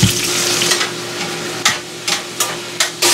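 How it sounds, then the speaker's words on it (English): Thinly sliced deer meat fries in a hot skillet with a steady, broadband sizzle, punctuated by several sharp stirring scrapes and clatters near the end. "we're going to start frying that in our skillet here"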